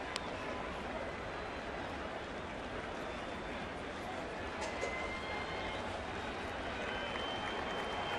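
Dense, steady roar of a big crowd in a New York Yankees home stadium as fans press for a strikeout from pitcher Sabathia, a continuous wash of cheering and applause that never breaks.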